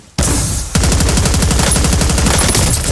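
Automatic gunfire in Call of Duty Warzone: after a brief loud burst, a rapid, evenly spaced machine-gun rattle runs loud and close without a break.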